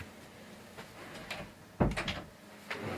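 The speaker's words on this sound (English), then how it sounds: "let me shut my door" A door is shut indoors, a single sharp thud followed by a brief rattle, with lighter shuffling sounds before and after.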